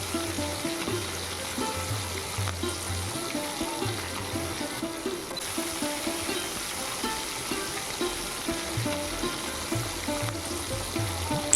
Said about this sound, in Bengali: তারপর উল্টো পিঠটাও ফ্রাই করে নেওয়ার পালা